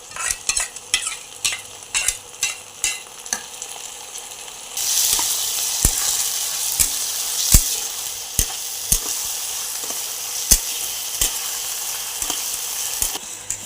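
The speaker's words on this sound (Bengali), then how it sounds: "আমার রসুনটা আর আদাটা ভাজা ভাজা" Onion with ginger-garlic paste frying in a pan gives a steady, close sizzle, broken by regular sharp scrapes and taps of a spoon stirring, louder sizzling after the first few seconds.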